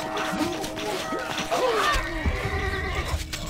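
Horse in the strategy game Stronghold Crusader giving a loud, wavering whinny, its neighing cries sliding up and down over faint clatter and a voice speaking in the background.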